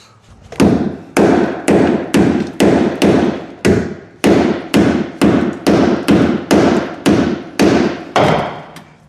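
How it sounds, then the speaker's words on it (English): Hammer pounding a metal fender flat against concrete, about fifteen loud, close, heavy blows in a steady rhythm with short pauses, no voices. "I'm going to grab a hammer and just beat the heck out of that and try to flatten it out a little bit"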